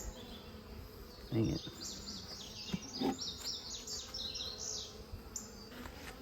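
Honey bees hum and buzz around a rescued hive with frames of comb, a soft close drone with passing higher whines, while a person says a brief remark and some handling knocks sound.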